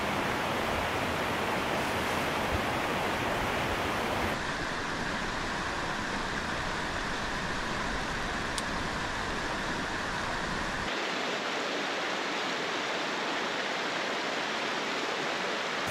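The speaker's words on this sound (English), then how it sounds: "We've got a creek running right here. You can hear it, I'm sure." Mountain creek running beside a backcountry campsite in Banff, a loud, constant rushing hiss of flowing water that fills the whole clip with no voices.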